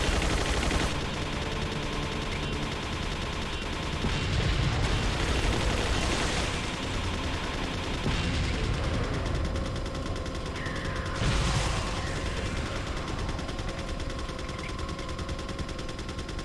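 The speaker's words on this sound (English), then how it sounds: "I'm just going to jump in this and shoot the shit out of those good turrets." A gun turret in the Resident Evil 4 Separate Ways DLC fires continuously, dense rapid bursts of gunfire with heavier booming impacts at intervals, loud and sustained throughout.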